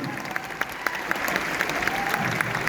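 An indoor stadium audience claps together in a sustained, even burst of applause, dense and moderately loud, with a hall hum underneath.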